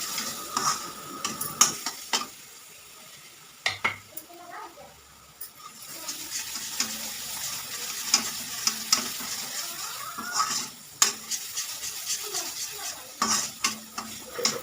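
Spices roasting in a pan for spinach and potato, a steady low sizzle broken by repeated scrapes and clinks of a stirring spoon against the metal, close and with no talking.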